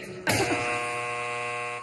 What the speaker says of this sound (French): Deuxième buzz de Claire qui coupe le son de son conjoint pendant 1 minute.